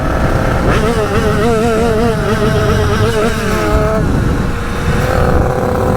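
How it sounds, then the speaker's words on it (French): A small 50cc motorcycle engine, clogged with carbon deposits, revs up and down in wavering bursts, buzzy and close, with a rough low rumble underneath and no talking. "Je sais pas ce qu'il y a à sa moto, mais elle est encrassée."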